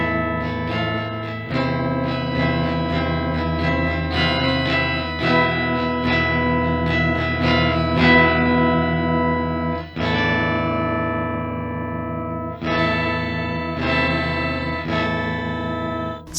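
Electric guitar played through a Stritch OCTPUS octave pedal, thick distorted tones with a doubled lower octave underneath, a continuous riff of sustained notes and chord changes, loud and upfront with no speech.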